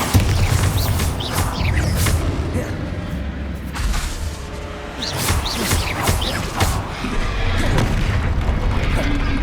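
Bombarda spell blasts go off in Hogwarts Legacy combat, with heavy booms and crashes mixed into a dense, continuous wash of battle effects and music.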